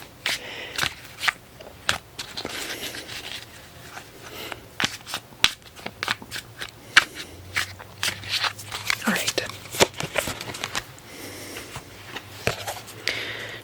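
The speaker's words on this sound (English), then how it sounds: "And again, we'll shuffle the cards." Cosmic Tarot cards shuffled close up, a long run of crisp riffling clicks and soft slides with a faint low hum beneath, no talk.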